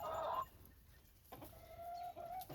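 Chickens cluck in a farmyard, a short, fairly close burst of clucking followed by a pause, then a softer, sustained call with a few brief clucks toward the end.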